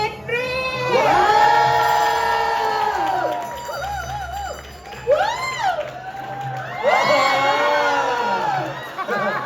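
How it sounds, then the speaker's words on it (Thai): A loud crowd screams and cheers in surging waves, with high shrieks rising and falling over a steady roar of voices. "เสียงกรี๊ดดังๆ"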